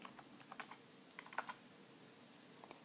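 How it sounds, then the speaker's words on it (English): Someone types a MySQL login command on a computer keyboard, producing a quick, irregular series of light key clicks in a quiet room with no talking. "Log into your MySQL account by typing mysql minus u root minus p."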